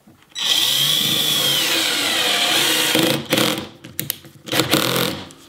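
A power drill drives a screw while an emergency-stop button is being mounted, whirring steadily and loud for about three seconds before breaking into short stuttering bursts as the screw seats.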